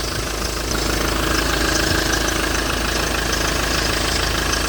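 A diesel or petrol engine idles steadily after an air lock from a loose fuel filter is cleared, a loud, even, close-up rumble with a constant knocking texture running throughout, no voices.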